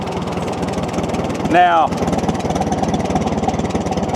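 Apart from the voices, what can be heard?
antique Farmall tractor engine idling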